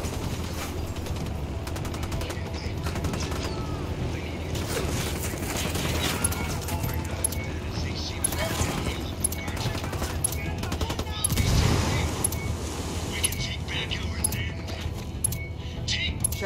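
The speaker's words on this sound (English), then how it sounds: "Every gunshot and every footstep echo the unpredictable rhythm of this Bolivian battleground" A Ghost Recon firefight in the Bolivian countryside: rapid machine-gun bursts and scattered gunshots crackle continuously, with a heavier blast near the middle and voices talking over the shooting.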